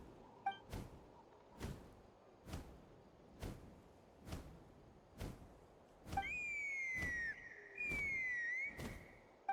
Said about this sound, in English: That sounded like a whistle.